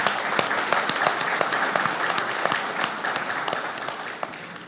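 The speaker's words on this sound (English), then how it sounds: "Let's all give these individuals a round of applause" An audience at a Micronesian Islands Forum gathering claps steadily and fairly loudly, a dense, even patter of hands with a few sharper individual claps.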